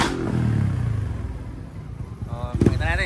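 An UMA M9 motorcycle engine revs hard to about 5,000 RPM, roaring steadily and then breaking into a rough, crackling burst near the end as it backfires.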